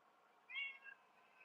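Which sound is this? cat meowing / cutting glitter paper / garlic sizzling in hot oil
cat meowing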